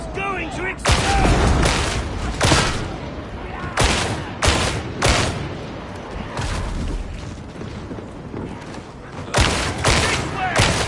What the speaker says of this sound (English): That barrel's going to explode!